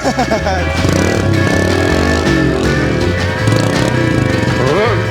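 Kawasaki motorcycle engine revving hard during a wheelie attempt, a loud, close, rasping drone whose pitch climbs and falls with the throttle.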